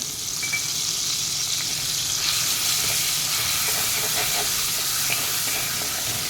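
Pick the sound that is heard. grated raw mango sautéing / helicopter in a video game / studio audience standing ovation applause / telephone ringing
grated raw mango sautéing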